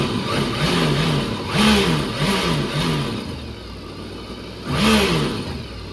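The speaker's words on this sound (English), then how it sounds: "It does sound like a lot of growling in the engine." A Yamaha WaveRunner MR1 marine engine, removed from the craft and being checked for a charging fault, runs with a rough growl. Its pitch swoops up and down in short repeated revs, with a louder surge near the end and no talking.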